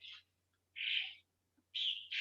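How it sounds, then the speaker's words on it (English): Faint, high-pitched bird calls repeat a few times with short pauses between them, distant and soft against a quiet background hum. "Are the birds too loud?"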